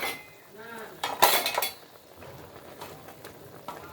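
A metal spoon clinks and scrapes inside a bowl as a soy sauce and vinegar mixture is stirred, with a few sharp taps and quieter swirling scrapes between them.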